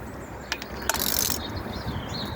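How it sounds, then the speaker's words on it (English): Spark plug spanner ratcheting on a Land Rover Freelander K16 engine, a few close metallic clicks and a short burst of ratchet rasping, quiet and without talk. "Swap back to the spark plug spanner again."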